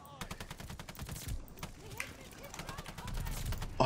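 Rapid automatic gunfire from a KG M40 rifle in a Call of Duty Vanguard multiplayer match, bursts of shots crackling throughout with a voice talking over the action.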